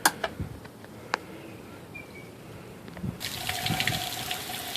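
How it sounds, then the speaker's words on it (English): Garden hose water running to flush a Yamaha 250 HPDI outboard motor, a steady broadband rush that grows louder and fuller midway through, with a few faint clicks before it. "now that the hose is on, you can see that water is pouring out near the prop"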